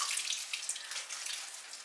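Hot tap water runs over a glass canning jar being rinsed, a bright, close, continuous hiss and splash with small uneven bursts as the jar moves under the stream.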